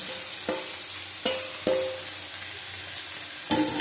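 Bitter gourd frying in a pan, a constant soft sizzle broken by a few sharp clanks of a spatula stirring against the metal.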